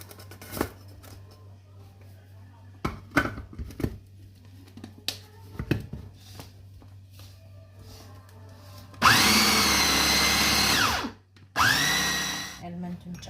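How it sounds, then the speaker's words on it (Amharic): Almonds are ground for homemade Nutella in an electric grinder, which roars loudly in two long bursts with a short pause between. Before that come scattered clinks and a speaking voice. "ኤልመንቱን ለመፍጨት ይሄ መፍጫ ነው የሚጠቅመኝ በጣም"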